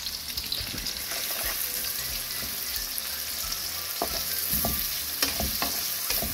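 Goat brain frying in a pan with onion, salt and whole garam masala, a steady close sizzle with scattered spoon scrapes and stirring clicks throughout.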